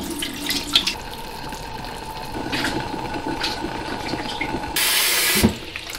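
Water runs and splashes steadily while soaked preserved mustard greens are rinsed a second time in a basin, with a brief louder gush of water near the end and no talking.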